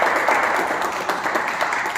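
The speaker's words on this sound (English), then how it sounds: "So, big round of applause. You need to applause yourself" Audience applause at a Toastmasters meeting, a steady broadband wash of many hands clapping that holds evenly for a couple of seconds with no talk over it.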